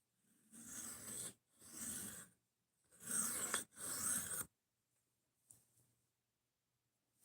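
Four steady rasping sharpening strokes of an Esee Izula knife of 1095 carbon steel, close and fairly loud, in two pairs, followed by near silence with a few faint clicks.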